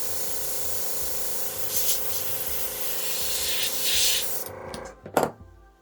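An airbrush sprays alcohol ink in a continuous soft hiss with a steady hum beneath, swelling slightly a couple of times before it cuts off, followed by a few close clicks and knocks.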